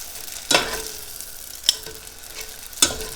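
Food pan-frying until crispy, with a steady sizzle under three sharp clatters of turning or stirring spaced about a second apart.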